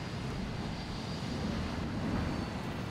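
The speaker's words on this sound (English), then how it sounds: "Look, it's a plane thing." An aircraft engine drones steadily in the PlanetSide 2 video game, a continuous low rumble with a broad roar that holds level and close throughout.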